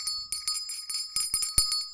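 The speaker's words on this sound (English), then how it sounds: "Hey, Lord Crashington, I'm going to ring this bell." A small bell rung during a workshop livestream, giving about a dozen quick bright tinkling strikes in an irregular rhythm, close and moderately loud, with no talk over it.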